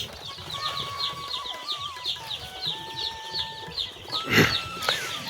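Day-old chicks on a farm brooder give a steady run of high, rhythmic peeping chirps, close and continuous, with a brief louder rustle or thump near the end and no talking.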